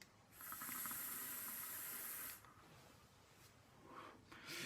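A long, steady hiss of vapour exhaled from an e-cigarette vaping a full-VG Flavor 39 e-liquid, close and lasting about two seconds, followed by a quieter breathy tail.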